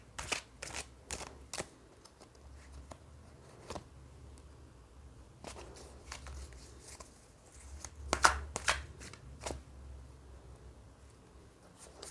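Tarot cards being gathered and shuffled by hand, with soft riffling and tapping in short irregular bursts, faint and close in a quiet room.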